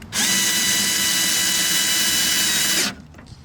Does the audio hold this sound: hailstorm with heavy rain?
no